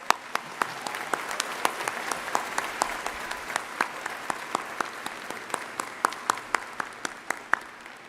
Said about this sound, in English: So please join me in a round of applause for their service to this great country.